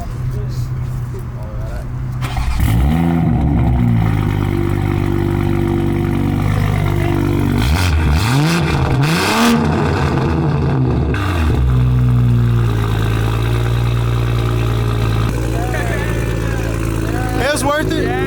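A Toyota Supra engine revs hard at a car meet: loud, rising and falling bursts of revving over a rumbling idle, with people talking and cheering around it.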